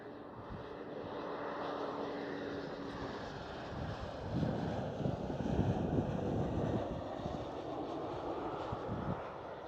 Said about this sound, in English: So KLM City Hopper E190 with the SkyTeam livery.